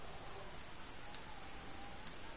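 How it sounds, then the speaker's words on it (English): Steady rain falls in Red Dead Redemption 2 near Mount Shann, a faint, even hiss of drops pattering on surfaces with occasional slightly sharper taps. "Ooh, and it's raining too."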